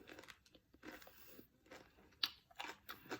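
Crunchy bites into turon, a fried Filipino dessert, with several crisp crackling bursts spaced apart, close and fairly quiet, and no talking over them.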